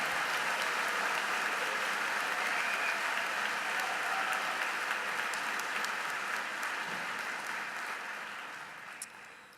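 Sustained applause from a large audience at the Upstate Medical University College of Medicine 2013 commencement, dense and steady throughout, tapering slightly at the end.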